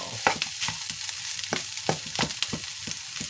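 Vegetables sizzle in vegan plant-based butter in a pan, a soft close crackle broken by repeated sharp scrapes and clinks of stirring, no voices.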